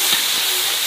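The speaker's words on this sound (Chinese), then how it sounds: "新鲜肉丝下锅" Fresh shredded pork hits a hot wok with salt, chili and soy sauce, giving a brief, dense, continuous hissing sizzle close by.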